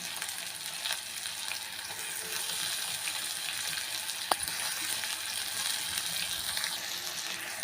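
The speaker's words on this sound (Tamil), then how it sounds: "பாருங்கள் கேப்சிகமும் வெங்காயமும் லைட்டாக வதங்கினோடனே வந்து வெந்தயக்கரையை சேர்த்துக்கலாங்க" Chopped capsicum and onion sautéing in a pan, a steady soft sizzle that fills the whole stretch at low level, with one brief click midway and no talking.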